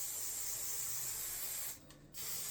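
A can of 3M High Strength 90 contact adhesive sprays in a loud, close, continuous hiss that briefly cuts off near the end and resumes, with no talking.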